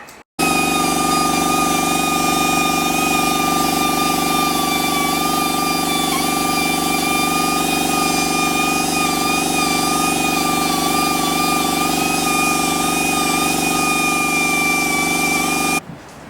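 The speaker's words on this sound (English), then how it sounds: "I'm going to clean up this pressure plate. Ziz wheel it a little bit. And do the same on the flywheel." A steady, loud, high whine of an abrasive wheel cleaning a clutch pressure plate and flywheel from a 1972 Pontiac Firebird, running continuously without letup until it cuts off at the end.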